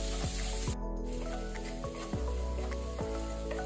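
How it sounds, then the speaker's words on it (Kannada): Garlic and green chili sizzle steadily in a hot pan in a broccoli stir-fry, a constant close frying hiss broken by regular light taps of stirring. "ಬೆಳ್ಳುಳ್ಳಿ ಕೆಂಪಾಗೋ ತನಕ ನಾವು ಫ್ರೈ ಮಾಡ್ಕೊಳ್ಬೇಕು"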